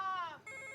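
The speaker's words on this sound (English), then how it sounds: "one of many phone rings in the movie" A telephone rings in a 1997 film scene: a bright, harmonically rich electronic ring that slides down, briefly breaks, then returns as a steadier tone, close and clear with no talk over it.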